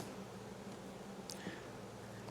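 Honeybees hum around an opened hive during a June inspection, a low, steady, faint drone with a brief rustle and no talking.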